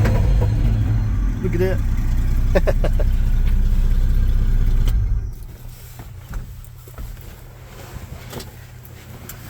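The engine of a 1972 Chevy C10 pickup truck, which has overheated and is leaking oil, runs with a loud rumbling idle and then cuts off, leaving quieter clicks and knocks while people talk.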